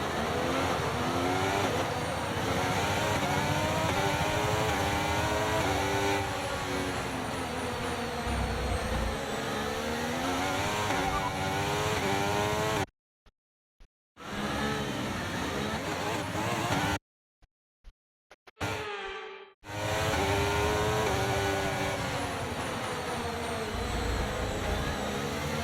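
A Formula 1 car engine in the F1 23 racing game screams at high revs, a loud, continuous, buzzing whine shifting in pitch, cut by two short silences, with a player talking over it.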